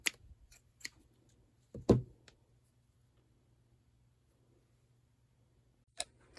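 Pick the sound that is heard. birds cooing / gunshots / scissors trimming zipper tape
scissors trimming zipper tape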